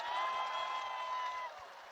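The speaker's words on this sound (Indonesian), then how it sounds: "Tepuk tangan dulu untuk JIS karya Pak Anies Baswedan" A crowd at a press freedom declaration event applauds for the JIS stadium, a dense wash of clapping and cheering that fades slightly toward the end, heard from a distance.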